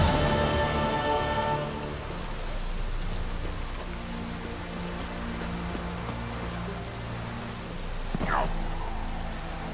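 Rain falls steadily in The Witcher 3, a soft even patter, with faint tonal game sounds at the start and a brief swooping effect near the end, no talk.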